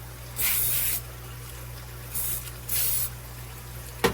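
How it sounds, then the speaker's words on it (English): Three short hissing bursts of Pam cooking spray onto a cookie scoop, close and sharp, separated by brief pauses over a faint steady hum, ending with a small click. "I'm going to spray it with the Pam."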